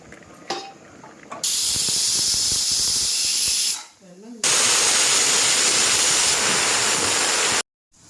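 Steam hissing loudly from a pressure cooker used for a payasam with cardamom in a home kitchen, coming in long continuous bursts with a brief dip between them, then cutting off abruptly near the end.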